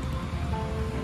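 Soft, steady rain patters continuously at night on a Delhi street, a faint wash of drops with no voices.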